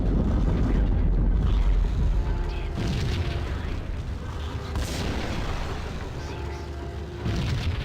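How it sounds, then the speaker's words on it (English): Rumbling explosion blasts in the Max Payne video game, a loud low boom at the start followed by sustained crackling, debris-like noise and further bursts, with game sounds continuing throughout. "Can heroes walk away from explosions"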